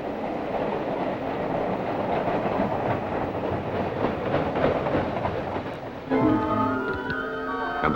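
A train rolls along the rails with a steady rumbling, rattling roar and faint clickety-clack, heard continuously throughout; near the end a brief tonal whine or horn-like sound rises over the rolling noise.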